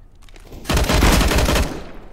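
Counter-Strike: Global Offensive gameplay with a loud, close burst of rapid automatic gunfire lasting about a second, rising abruptly and then cutting off.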